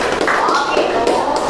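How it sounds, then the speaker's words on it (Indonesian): A class claps hands in an Indonesian school lesson, a dense, steady patter of many hands across the whole moment, mixed with voices talking over it. "Tepuk tangan."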